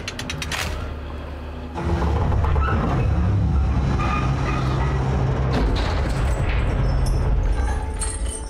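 Crane machinery starting up in the Alone in the Dark video game: a sharp mechanical clank, then a loud, steady grinding and rumbling motor drone with rattling metal creaks layered on top.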